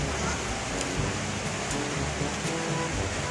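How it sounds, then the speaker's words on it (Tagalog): Heavy rain pours steadily outdoors during a stormy spell, a dense, constant hiss with no pauses that sounds close and fairly loud. "Ulan naman po"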